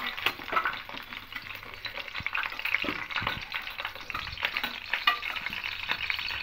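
Potato pieces frying in hot oil for khichuri give a steady, close crackling sizzle with scattered pops and occasional scraping stirs, continuous throughout and without speech.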